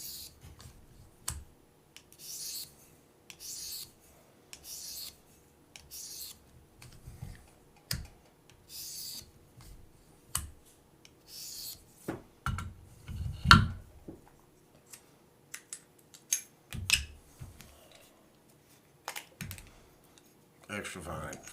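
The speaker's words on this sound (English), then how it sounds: "the rest of the stones, we're literally just sanding metal, polishing, but it's really sanding" A KME sharpener's stone is stroked along a knife blade in repeated short rasping passes with pauses between them and small clicks, close by, while a person talks over it.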